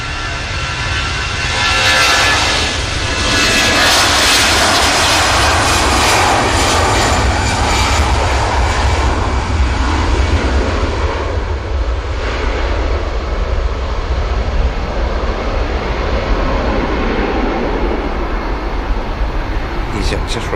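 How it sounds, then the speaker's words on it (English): A Virgin Atlantic A330 airliner departing Manchester Airport, its jet engines roaring loud and steady throughout, building early and then holding a broad rumbling whine, with someone talking over it. "this Virgin Atlantic 330 departing"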